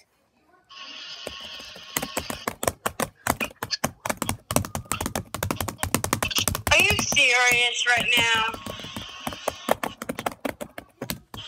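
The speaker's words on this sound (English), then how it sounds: "it's time for a keyboard click sound effect" Rapid clicking of computer keyboard keys, a fast close-up clatter of individual strokes running nearly the whole time, with brief talking over it partway through.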